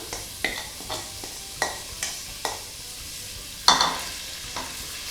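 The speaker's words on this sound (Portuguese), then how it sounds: "A margarina, além de servir para a gente refogar a cebola, vai trazer uma maciez incrível para essa carne." Onion sautés in margarine in a pan while a beef jerky and cream cheese filling is prepared, with a soft, steady sizzle broken by a string of sharp scraping stirs and one louder clatter.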